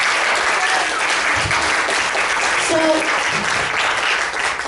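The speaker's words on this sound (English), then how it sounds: "So let's give them a round of applause." An audience at a New York cabaret-style concert of songs claps in a steady, full round of applause that lasts throughout, with a brief spoken word near the start.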